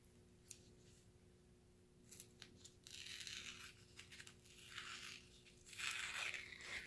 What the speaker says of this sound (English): just kind of do a little ripping along the edge here